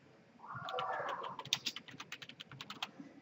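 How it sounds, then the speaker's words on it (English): Close, crisp keystrokes on a computer keyboard as someone types a message into a reservations system, a burst of quick clicks followed by a steady run of distinct taps, no voices. "simply by typing a message in there"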